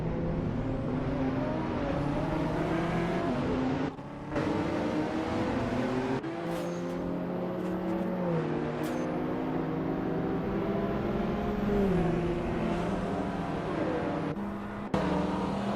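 Race cars in a racing video game roar continuously, engines revving up and down through gear changes as several cars run close together and overtake, loud and steady throughout, with a couple of brief dips in the sound.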